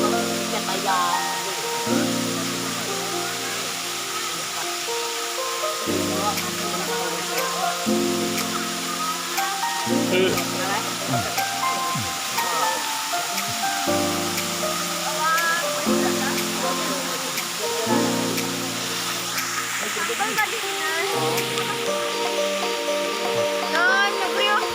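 Maruyan waterfall on Bangka: a steady, broad rush of falling water runs throughout, with people talking and a low tonal sound over it.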